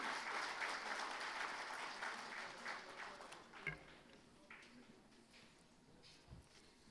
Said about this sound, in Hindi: आपकी जोरदार तालियां इसके बीच में हो जाएं।